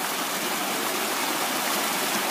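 Rain-swollen water rushes steadily across a site after a night of heavy rain, a dense, continuous broadband roar like a stream or small waterfall, close and loud with no break.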